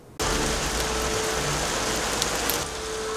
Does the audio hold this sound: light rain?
yes